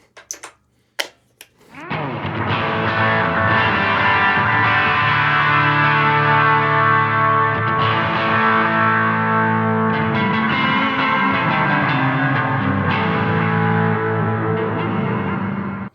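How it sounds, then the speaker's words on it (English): A few light clicks, then a loud sustained electric guitar chord through a distortion pedal on a Line 6 POD GO, heavy distortion ringing out and slowly fading, no talking. "Now check them again once I engage a distortion pedal."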